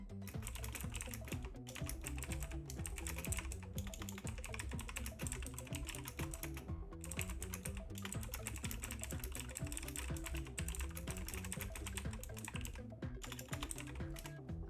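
Rapid typing on a computer keyboard while replying to a message, a dense, continuous stream of close key clicks with brief pauses.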